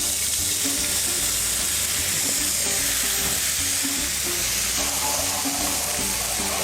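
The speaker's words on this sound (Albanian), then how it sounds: "Në tigan shtojmë pak ujë." Water hits a hot pan of freshly fried guanciale for spaghetti carbonara, and a loud, steady sizzle and hiss fills the whole stretch up close.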